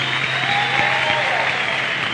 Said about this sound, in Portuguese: aplauda a Virgem Maria de pé